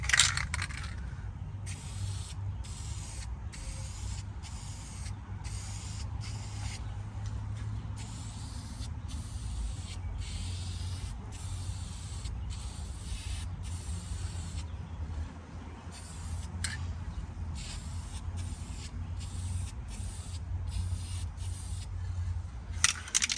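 Cheap, runny primer hisses from a spray can onto the bodywork of a 1999 Jeep Wrangler TJ outdoors, coming in a long run of short bursts separated by brief gaps, fairly close and steady.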